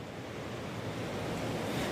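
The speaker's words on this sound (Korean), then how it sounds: "저녁이 되면서 이곳 법한포구에는 바람과 파도가 점점 강해지고" Strong typhoon wind and crashing waves roar continuously at a Jeju harbor as Typhoon Hinnamnor approaches in the evening, a steady, dense wash of surf and wind buffeting without any voices.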